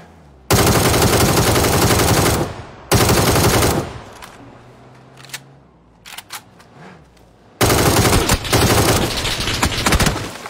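Rifle gunfire in the game PUBG: three long, loud bursts of rapid automatic shots separated by quieter gaps with a few scattered single shots.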